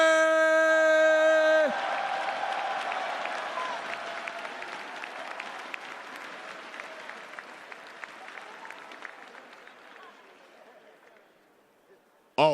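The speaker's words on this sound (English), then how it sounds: "In 5th place, please cheer for Monkey" A large crowd claps and cheers steadily at an esports awards ceremony for a Street Fighter V tournament, dense applause after a musical sting that slowly fades away.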